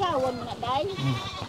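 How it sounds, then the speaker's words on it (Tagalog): A farm goat bleats in a wavering, nasal cry along a roadside by a sugarcane field in the Philippines, several short quavering calls close by, with people talking over it. "Yung kambing namin."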